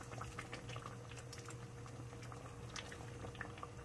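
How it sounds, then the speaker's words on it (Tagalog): Mung bean soup with leaves bubbles steadily in a pot at a rolling boil, making a constant close gurgle with small pops and no voices. "Kumukulo na siya."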